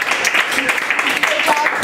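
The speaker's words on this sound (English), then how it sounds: "applause." Brief applause from a small audience at an improvised music session, partly covered by a person talking over it.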